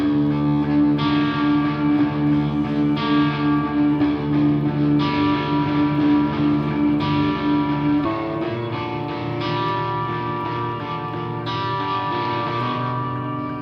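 A slow, dark electric guitar drone with sustained low tones that swell and shift, heavy with effects and distortion, continuous and fairly loud.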